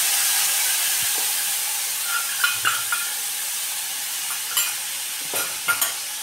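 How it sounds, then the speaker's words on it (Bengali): Spice paste frying in hot oil for a Bengali fish curry with eggplant, a steady broad sizzle with occasional soft clinks and scrapes from stirring, close and continuous with no talking. "এবারে এই মশলাটাকে আমি একটু কষাবো।"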